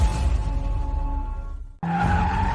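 A race car brakes hard with a sustained tire skid that grows louder, cuts out abruptly, then a fresh squeal and engine roar burst back in.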